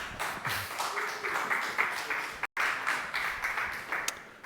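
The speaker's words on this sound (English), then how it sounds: "Give a round of applause." A conference audience claps for two speakers taking the stage at a talk on an open commerce protocol: steady, dense applause at moderate level, with one brief dropout midway.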